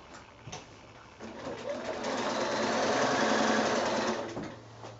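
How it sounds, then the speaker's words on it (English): Close up, a sewing machine runs a bag seam in one sustained whirring stretch that swells in the middle and eases off, with a few light clicks before it starts. "now just sew this whole seam all the way around to make that the bag"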